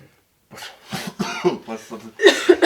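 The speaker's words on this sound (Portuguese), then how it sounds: "Que bom que você tossiu" After a moment of quiet, a person coughs several times in a rough, throaty series, close by, ending with louder harsh coughs.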